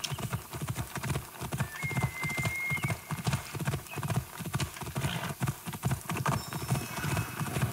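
Horse hooves clip-clop in a steady, fast, rhythmic beat as a horse is ridden in Assassin's Creed Odyssey, close and prominent throughout, with a brief whinny-like tone.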